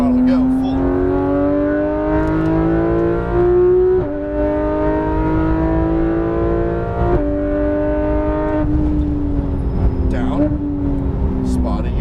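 Porsche 911 GT3 RS of the 991 generation accelerating hard on a race track, its engine note climbing steadily through the revs with brief dips at gear changes, loud and close, while an instructor talks over it throughout.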